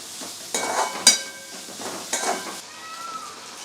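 Mushroom rice being sautéed in a pan with biryani masala, garam masala and Kashmiri chilli powder: a soft, steady sizzle with a few scraping stirs and a sharp metallic clink, close by and without talk.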